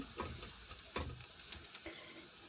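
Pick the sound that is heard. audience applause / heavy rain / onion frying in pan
onion frying in pan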